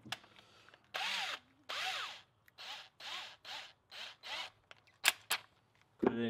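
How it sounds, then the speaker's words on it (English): A small bit in an electric drill bores a hole in metal on a Husky Super Brute HSB4000 electric tongue jack, heard as a series of close, loud whining bursts of a few seconds each, separated by short pauses. "Okay, then we're gonna take our small drill bit."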